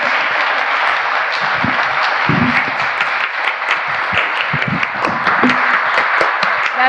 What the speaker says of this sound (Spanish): yo pienso que tanto Pilar como Laura se merecen un aplauso